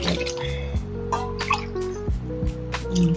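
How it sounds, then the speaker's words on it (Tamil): Water pours and splashes into a metal pot of chicken with gurgling, dripping sounds, over a low hum of cooking in the background. "இப்போ இது தேவையான அளவு தண்ணி ஊற்றிடுவோம்"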